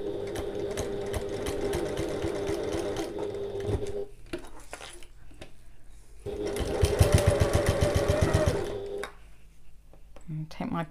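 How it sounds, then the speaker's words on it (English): A sewing machine runs around the three edges of a fabric oval bag in two sustained bursts of rapid stitching at regular stitch length, separated by a short pause, with a voice talking over it. "we're gonna sew around the 3 edges as we did before"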